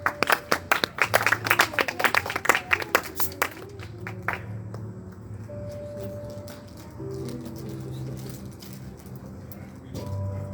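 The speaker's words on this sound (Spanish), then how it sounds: "Un aplauso al Rey" A church congregation claps for about four seconds, a dense burst of sharp close claps that quickly thins out. Quieter murmuring and a low hum follow.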